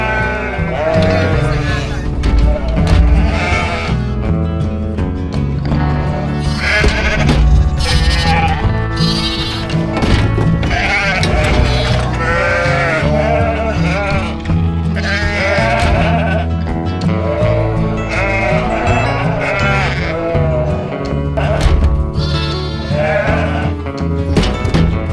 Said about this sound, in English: Ewes and lambs dropped off.